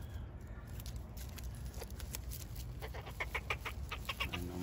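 Young hens (pullets) clucking and chattering outdoors on a poultry farm: a steady stream of short, overlapping clucks from several birds, fairly close and busy throughout, with no talk.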